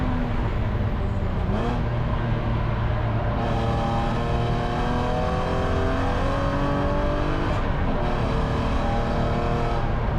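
A BMW E9X spec race car engine roars loudly and continuously on a road course at Gingerman during a Gridlife GLTC race, rising and falling in pitch through gear changes with brief lifts on corner entry.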